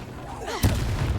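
A spell blast in Hogwarts Legacy: a sudden booming burst at mid-clip that is preceded by a brief swooshing rise, then a rumbling tail.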